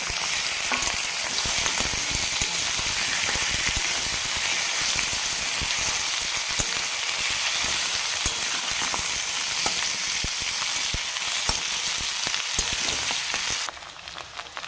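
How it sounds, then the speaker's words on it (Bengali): Mutton leg pieces fry in hot oil in a home kitchen, a dense, continuous hissing sizzle that holds steady for several seconds before easing near the end. "টেংরিটা দিয়ে ভাজার কারণ এটাই যে টেংরির গন্ধটা কেটে যাবে, তাই জন্য আগে একটু ভালোভাবে তেলে ভেজে নিতে হবে।"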